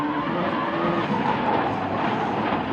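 A Ford rally car at the 2003 WRC Rally Greece drives hard in a loud, steady engine roar with continuous broadband road and tyre noise. No voices are heard.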